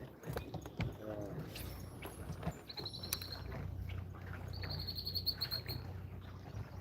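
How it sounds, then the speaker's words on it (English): A red-winged blackbird calls near the water on a spring bass-fishing outing in the Pacific Northwest, giving a few short, high whistled notes at moderate distance over a low rumbling motor and wind. "Red-winged blackbird."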